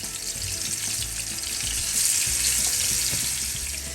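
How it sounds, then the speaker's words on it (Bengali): Fish slides into hot oil in a Bangladeshi home kitchen and fries with a steady bright sizzle, a close, continuous hiss with faint bubbling and small clatters underneath. "তেল গরম হয়ে গেছে, এখন আমি এর মাঝে মাছ দিলাম।"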